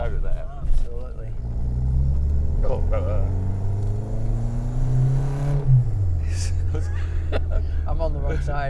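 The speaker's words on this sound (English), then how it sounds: "The sound from the old exhaust sounds nice." A Renault 5 Alpine Turbo with an old exhaust, driven hard: a loud, close engine-and-exhaust drone climbs steadily in pitch under acceleration, then drops sharply through a braking downshift before settling into a steady rumble again, with voices partly audible.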